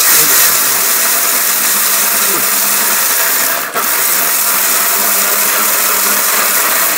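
An electric blender grinds gram flour (besan) in a medium jar, a loud, continuous high-pitched whir that runs steadily the whole time with only a brief dip midway.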